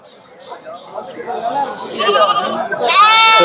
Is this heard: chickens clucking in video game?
no